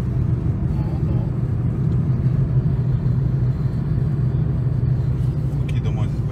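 Steady low road rumble from inside a car travelling along a highway from Yekaterinburg toward Kamensk-Uralsky, a constant engine and tire drone throughout, with occasional faint voices underneath.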